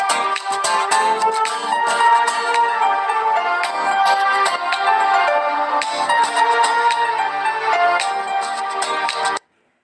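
A Telugu love-song mobile phone ringtone plays loud and continuous for almost ten seconds, a dense melodic tune with no voices, cutting off abruptly at the end.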